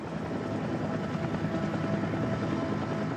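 A helicopter flying during rescue work in a deadly flood in the Hamburg port area, a steady broadband rotor and engine drone held at an even, fairly loud level throughout with no voices.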